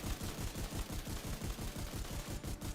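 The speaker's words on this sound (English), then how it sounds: "Really cool shotgun though, guys." Rapid, continuous gunfire from The Division 2, heard as a dense run of close, punchy blasts with no pauses, loud and alone without speech.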